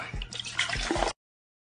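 Coca-Cola poured into a glass, a steady close fizzing, splashing pour lasting about a second before cutting off to silence.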